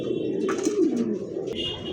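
Pigeons in a market stall cooing, a close, steady low throaty coo with a wavering rise and fall, joined by faint rustles and clicks in the background.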